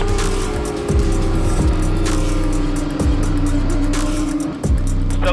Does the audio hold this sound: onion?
no